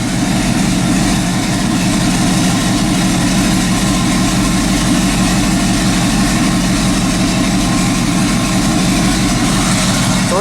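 A twin-turbo Ram 1500 pickup truck engine idles steadily and loudly nearby, a constant low rumble with a faint rhythmic pulse and no change in pitch.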